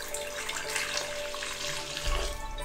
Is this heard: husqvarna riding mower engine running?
no